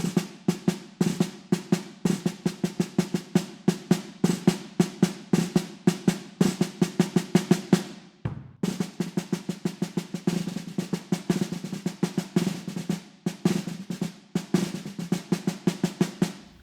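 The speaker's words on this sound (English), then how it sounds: "could become this mid-century snare intro" A snare drum plays a steady, busy New Orleans brass band intro pattern of rapid strokes and rolls, briefly pausing before continuing at the same driving pace.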